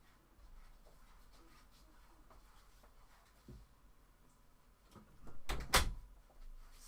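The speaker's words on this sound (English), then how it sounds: "so I'm going to close the door." A door is pulled shut in a house, giving one short, fairly loud thud-like burst near the end over a quiet room background with faint muffled noise.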